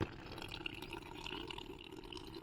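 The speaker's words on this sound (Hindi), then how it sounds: "ये है गांव का धारा हमारा।" Village spring in the Uttarakhand hills pouring water: a faint, continuous splashing trickle with no pauses.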